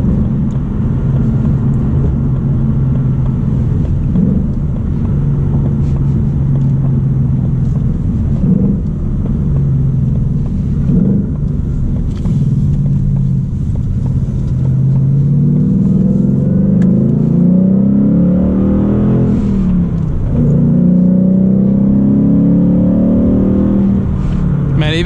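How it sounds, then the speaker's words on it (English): A manual 2019 Ford Mustang GT accelerates hard, its V8 engine rumbling loud and close from inside the car, revs climbing through gears with brief dips at shifts while the driver talks over it. "which I believe I can finally like open up the car a little bit"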